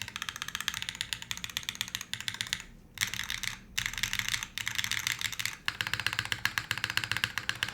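Fast typing on a custom mechanical keyboard produces rapid, close, clacky key strikes in steady bursts, with a couple of brief pauses between runs.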